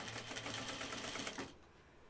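Home sewing machine stitching a flight suit, giving a close, steady rapid mechanical whir and clatter for about a second and a half before it stops abruptly, leaving quiet room tone.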